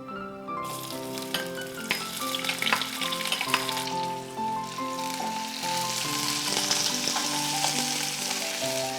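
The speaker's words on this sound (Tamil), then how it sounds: "முதல்ல நாம் வெங்காயத்தை ஆட் பண்ணிக்கலாம்." Onions fry in a pan for a mint kuzhambu, producing a continuous, even sizzle with light stirring scrapes, heard under soft background music.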